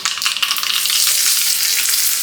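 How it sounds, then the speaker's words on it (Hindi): Mustard seeds and curry leaves crackle and sizzle loudly in hot oil for a chutney tempering, a bright, steady hiss with sharp pops near the start. "राई और करी पत्ते का तड़का 2 चटनियों के लिए बना रही हूँ"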